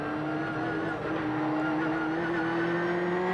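A rallycross car driven by John Welch through a second-gear chicane in a 1991 event, its engine droning loud and steady at high revs with pitch climbing slowly, close up and alone.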